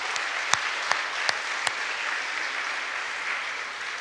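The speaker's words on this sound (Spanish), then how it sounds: "¿Y qué tal si todos nos damos un aplauso los unos a los otros?" Church congregation applauding one another during an anniversary service, a steady wash of mid-distance clapping with a few sharper individual claps standing out early on.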